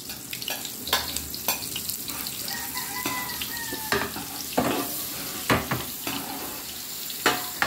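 Onions being sautéed in a pan while cooking sopas, with steady frying sizzle broken by repeated sharp stirring and clanking strokes of a utensil against the pan, close and alone without talk.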